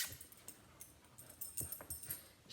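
A small, energetic pet dog whimpering in short, faint, broken whines and yips close by, with quiet gaps between each soft cry.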